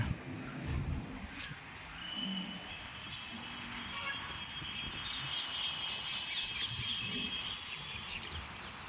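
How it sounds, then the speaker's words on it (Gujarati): Faint bird calls and chirps scattered over a low outdoor rumble in a green area of Vadodara, India, with a thin whistling tone running through the middle. "પક્ષીઓનો અવાજ"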